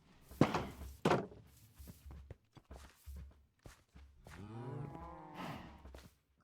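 Cattle in a video game farm pen moo several times with clear, drawn-out calls, mixed with footstep-like thumps and knocks in the first half.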